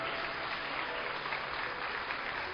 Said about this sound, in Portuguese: Pode aplaudir a Jesus Cristo, porque Ele é digno de toda honra